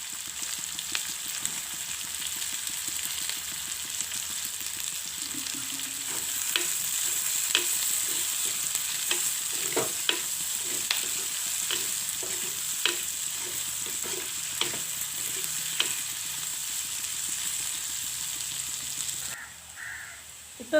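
Onions with garlic and curry leaves fry steadily in a pan, a continuous close sizzle with scattered pops and crackles, stirring clinks now and then, and faint crows cawing in the background.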